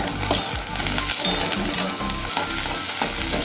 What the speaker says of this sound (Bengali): পটল ভাজা হচ্ছে ওদিকে